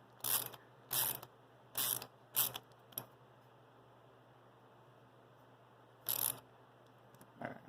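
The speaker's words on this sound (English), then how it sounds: "so now so that it's ratcheting the right way" A ratchet mechanism on a homemade split-wood black soldier fly egg-laying trap clicks in short bursts, four quick ratchets in a row, a pause, then two more, crisp and close in a quiet room.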